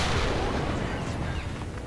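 Heavy explosive blast and rumble from a HESH shell striking an angled tank hull in War Thunder, a dense, loud burst of low roar and debris noise that fills the moment and slowly decays.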